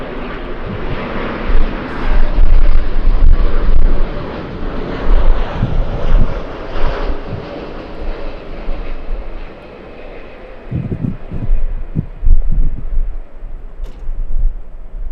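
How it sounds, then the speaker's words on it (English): Airbus A350-1000 jet engines at Los Angeles airport on a gusty day, a loud, broad roar that rises and falls with rumbling surges, heard up close over roughly fifteen seconds. "We have a big one. We have A350 1000."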